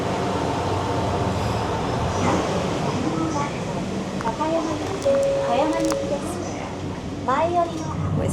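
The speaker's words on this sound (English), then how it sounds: "This train's called the Wide View Hida because it has large windows so you can enjoy the countryside views." Interior of the Wide View Hida limited express train running from Nagoya to Takayama: a steady rumbling hum of the moving train with faint squeals and clatter, under people talking.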